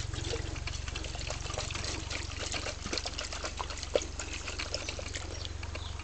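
A container of fruit brew and water is shaken up close, giving a continuous sloshing, splashing liquid sound with rapid rhythmic agitation and no speech.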